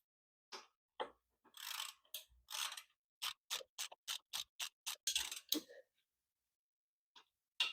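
A Hyper Tough ratchet wrench clicks through a series of short, sharp ratcheting bursts, some quick single clicks and some longer buzzing sweeps, close and loud with brief pauses between them, and no talk.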